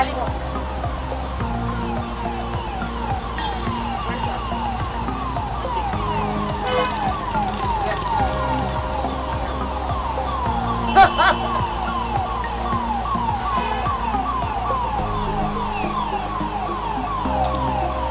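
An ambulance siren wails in a steady repeating pattern on a busy city street outside a café, holding at moderate loudness behind traffic and crowd noise while people talk nearby.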